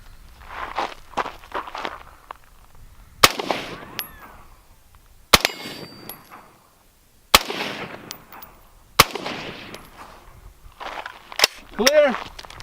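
A .50 caliber heavy sniper rifle fires at stainless steel: four loud, sharp cracks about two seconds apart, with people talking between the shots.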